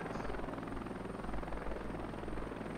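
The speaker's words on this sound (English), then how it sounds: "Such a good helicopter when I can actually stay alive" MH-60 helicopter in the video game Heliborne, a loud, continuous rotor thump and engine drone with a fast, even beat, close and unbroken, no talking.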